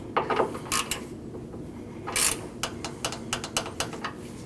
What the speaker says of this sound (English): Tighten down both bolts for your transmission cooler